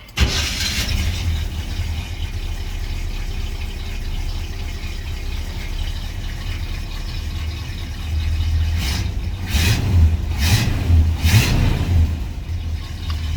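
A 1984 Chevy squarebody truck with Edelbrock tuning cranks and fires up, then settles into a steady rumbling idle before several sharp throttle blips rev the engine near the end, close and loud.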